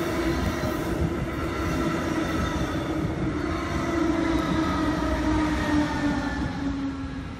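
A Brightline passenger train rolls past close by with a continuous heavy rumble and steady rhythmic rail clatter, a loud, sustained sound with a faint tonal whine.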